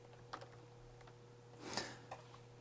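Computer keyboard typing at close range, a few scattered keystrokes with a short burst in the middle, quiet and without speech.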